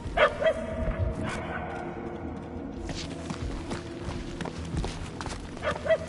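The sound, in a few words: dog barking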